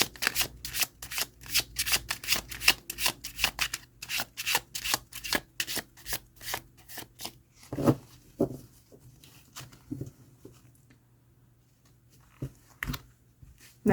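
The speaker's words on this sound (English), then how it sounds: "Yeah, these shuffle really nice." Thin tea leaf reading cards shuffled by hand in quick repeated riffles, close and clear, then a few scattered soft taps and handling sounds as the shuffling stops.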